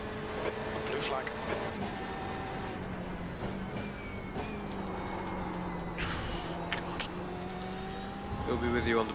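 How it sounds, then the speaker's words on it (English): A race car engine drones in iRacing at Sebring during a 12-hour endurance race, a steady high whine that shifts in pitch with gear changes, heard under radio talk. "It's a faster class car approaching."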